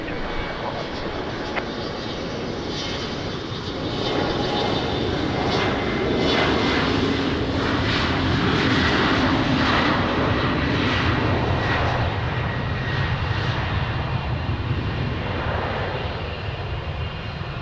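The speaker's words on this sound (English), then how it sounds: "One heavy behind Embraer 195 departing runway 20 via Tango" An Embraer 195 jet airliner departs a runway at Lisbon airport in the rain, its engines producing a loud, steady roar that builds and holds throughout, with no speech over it.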